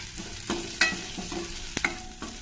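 Cumin and onions frying in a pan for a sambar masala with brinjal, a steady low sizzle broken by several sharp stirring scrapes and knocks, close by and with no voices.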